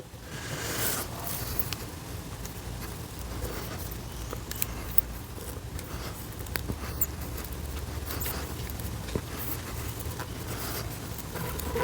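A Work Tuff Gear Lanzeta knife saws through 1-inch 4-ply material, producing close, scratchy rasping and scraping with scattered sharp clicks and snaps over a low background rumble.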